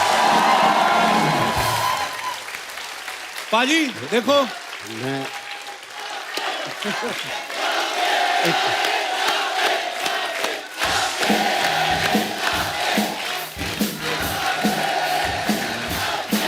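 A television comedy show studio audience applauds and cheers with whoops for a guest introduction, loud and continuous, while a host speaks and laughs over it.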